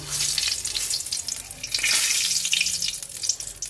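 A bay leaf sizzling in hot oil left from frying fish, with a steady crackling hiss and a few scraping touches from a utensil, close and moderately quiet.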